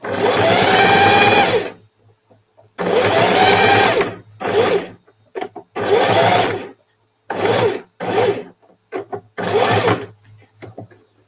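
A sewing machine stitches in loud, close bursts of rapid mechanical whirring, one long run followed by several shorter stops and starts separated by brief silences.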